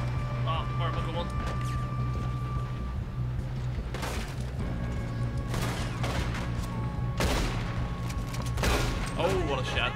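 Gunshots in the video game Red Dead Redemption 2: several sharp shots spaced a few seconds apart over a steady game backdrop, with a person talking throughout.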